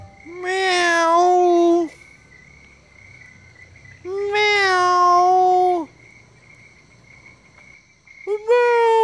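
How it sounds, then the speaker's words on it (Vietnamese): A cat meows loudly and close up in long drawn-out cries, three separate calls spaced a few seconds apart with quiet pauses between them. "Mèo."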